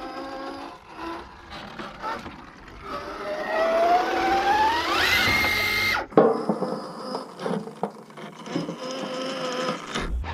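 An RC truck's pinion gear spins while the spur gear runs free, giving a rising mechanical whine that climbs in pitch and then cuts abruptly, followed by scattered clicks and small motor sounds.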